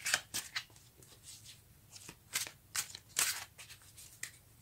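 Tarot cards being shuffled by hand, a series of quick, crisp riffling bursts repeating close up in an otherwise quiet room.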